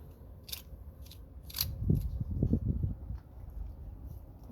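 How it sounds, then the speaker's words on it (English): Plastic butter knife scraping and smearing peanut butter around a pine cone for a bird feeder, a run of soft close-up crackly scrapes in the middle, with a few sharp higher clicks before them. "Using the knife, the butter knife, plastic knife, we're just gonna put peanut butter all the way around the pine cone."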